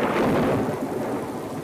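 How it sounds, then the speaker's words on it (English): In a film scene, thunder rolls loudly over heavy rain, a dense broad roar that peaks early and then eases slightly while the downpour continues steadily. "we're talking thunder, lightning, and rain intense."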